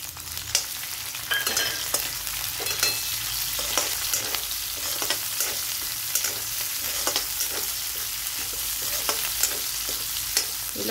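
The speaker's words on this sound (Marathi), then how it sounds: "आता आपण हिरवी मिरची तळून घेऊ" Green chillies frying in hot oil in a pan for sabudana khichdi, a continuous close sizzle and crackle broken by regular stirring clicks and scrapes, with no voices over it.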